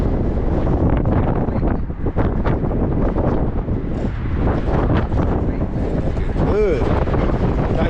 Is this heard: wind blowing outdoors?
yes